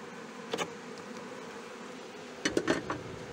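Honeybees hum in a steady background drone during a hive inspection after the colony was moved to a new site in Vysočina, with a few sharp clinks and scrapes of frames or tools cutting through.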